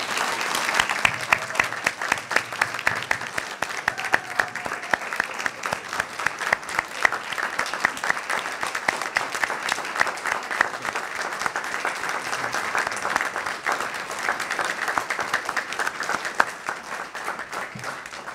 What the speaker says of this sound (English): Let's get one more round of applause for all of our graduates.